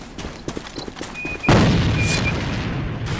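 A grenade explodes in the online shooter A.V.A on the Castle Rock map: a sudden loud, broad boom with a rumbling tail, after a stretch of lighter clattering footsteps and game effects.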